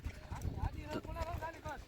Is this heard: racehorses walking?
yes